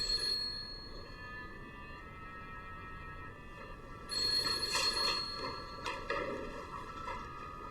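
A telephone rings with repeated electronic trilling bursts at a moderate, slightly distant level, two louder bursts standing out near the end.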